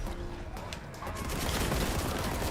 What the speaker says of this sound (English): it shoots even quicker than the normal bolt gun